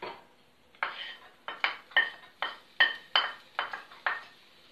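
Onions frying in a little oil in a pan, heard as a series of about ten sharp, close clinks and scrapes of a utensil against the pan, evenly spaced, with a faint sizzle underneath and no talking.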